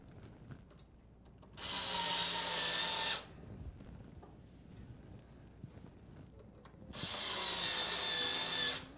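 A power screwdriver drives screws while fans are mounted in a Lian Li O11 Dynamic Evo PC case, in two whirring bursts of about a second and a half each, with quiet handling clicks between them.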